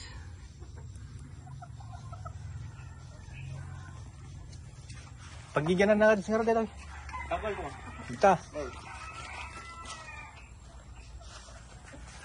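Fighting cocks kept by a Filipino breeder cluck and call loudly in short bursts midway, with a brief crowing-like cry, over a low steady hum while someone talks nearby.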